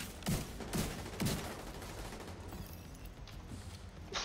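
Faint bursts of gunfire in The Division 2 video game, three distinct shots spaced evenly early on, then softer scattered shots in a quiet, distant-sounding firefight.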